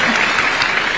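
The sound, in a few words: audience applause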